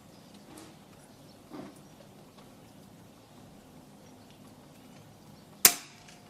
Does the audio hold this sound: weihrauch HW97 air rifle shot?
yes